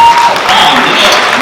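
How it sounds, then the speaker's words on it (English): Audience applause at a swing dance lecture event, a short burst of clapping from a gathered crowd, fairly loud and close, with some voices mixed in. "So give yourself a round of applause."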